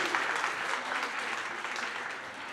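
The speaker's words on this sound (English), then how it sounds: "Please give a very warm applause to..." Audience applause at a science-for-policy conference in Europe, a steady dense wash of clapping from a full room that holds at an even level for the whole stretch, with no voices over it.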